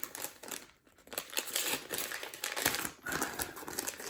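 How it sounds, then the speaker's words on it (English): Cardboard and paper packaging of a witch casket subscription box being ripped open by hand, a close, continuous crinkling and tearing with a brief pause near the middle. "no good way of doing this, you just got to rip it open"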